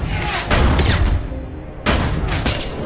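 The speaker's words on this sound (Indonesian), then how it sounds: "Ketiga polisi itu melepaskan tembakan" Loud booming pistol shots fired by police in quick succession, a pause, then more blasts, like gunfire echoing nearby.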